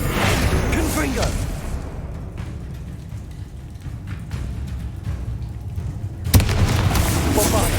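A Confringo fire spell exploding in the video game Hogwarts Legacy, a rumbling blast followed by crackling and a sharp second boom near the end, loud over continuous game ambience.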